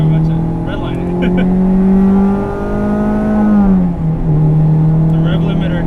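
A 1998 Acura Integra GSR with an all-motor build revs loudly up toward redline, its engine tone climbing in a long smooth sweep before dropping back, with voices over it.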